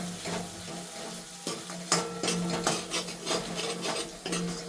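Gundar pak mixture of mawa, dry fruits and edible gum being stirred in a pan until browned, giving steady scraping and rasping strokes with faint sizzling, close and continuous with no voices.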